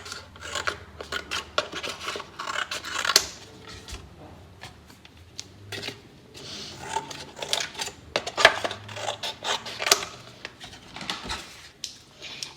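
Scissors snip through folded recyclable packaging along a halfway crease, giving a series of short, close rasping cuts and rustles in irregular bursts with no talking.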